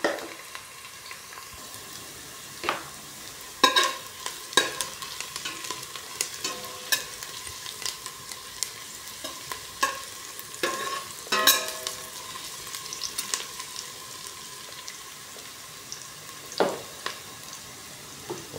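Garlic sizzles and fries in a pan, joining ginger and onion already cooking, while a utensil stirs it in scattered scraping clicks over a steady crackle, close and fairly quiet with no voices.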